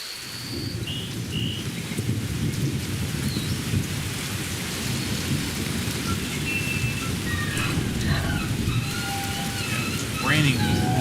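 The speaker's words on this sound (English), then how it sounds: "Raining more." Steady heavy rain with rolling thunder from the Donkey Kong 64 video game, a constant dense downpour with low rumbles underneath and a few faint in-game tones.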